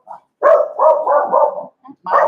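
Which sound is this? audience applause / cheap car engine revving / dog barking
dog barking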